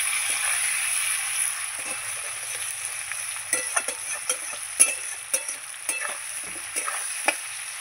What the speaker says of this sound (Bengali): এই যে পেঁয়াজ কুচিয়ে রেখেছিলাম, পেঁয়াজটা দিয়ে আবার নেড়ে ছেড়ে দেবো